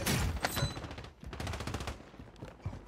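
Rapid bursts of automatic gunfire in Call of Duty: MW3 Warzone, a steady run of close, sharp shots with short gaps that continues for the whole stretch.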